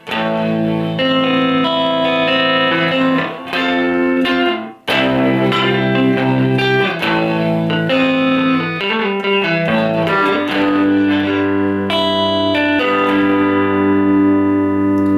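Electric guitar played through a Boss DD6 digital delay with the feedback raised to about midway, loud sustained chords and notes trailing into repeating echoes with one short break partway through.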